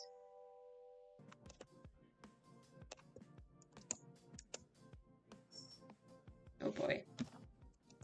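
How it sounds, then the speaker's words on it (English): Rapid clicking of fingers typing on a computer keyboard, steady irregular keystrokes close by, with a brief spoken exclamation partway through. "I type in all caps"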